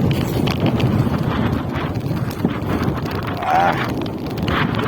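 Strong wind buffets the microphone in a continuous, rough roar, loud and close throughout, while fishing.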